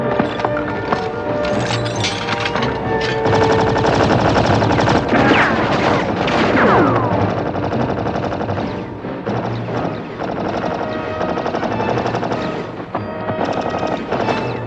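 Dense battle-scene gunfire in a World War I trench assault from a TV adventure series, rapid bursts and overlapping shots filling the whole stretch loudly, with a chaotic roar of other battlefield noise underneath.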